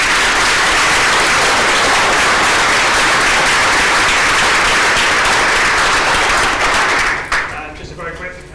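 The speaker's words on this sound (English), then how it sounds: "please give the panel a round of applause" Sustained, dense audience applause for a conference panel fills the room at a steady loud level, then tapers off into scattered claps near the end.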